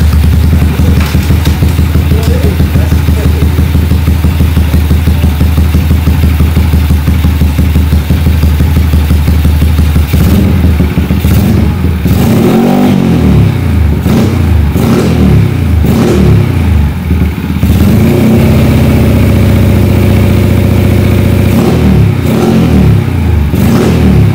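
A Yamaha Jupiter MX motorcycle in Bali road-race style idles with a deep burbling exhaust, then revs repeatedly in loud bursts, throaty and close.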